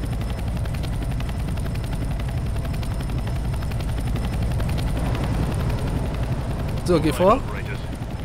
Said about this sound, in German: da werden wir mit dem Hubschrauber transportiert